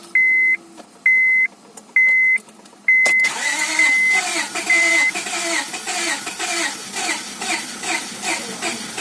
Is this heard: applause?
no